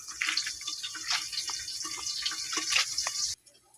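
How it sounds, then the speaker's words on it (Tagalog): Salted food being rinsed under running tap water in a sink, a steady close splash and trickle with small clinks throughout, cutting off abruptly near the end. "So kailangan natin siya hugasan sa tubig para matanggal yung kunting alat nila."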